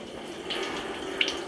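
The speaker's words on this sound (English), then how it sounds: "A few drips fall during the initial opening" Liquid coolant trickles and drips inside a CNC machine enclosure as its door opens, a steady close wash of running fluid with a couple of brighter drip splashes, no voices.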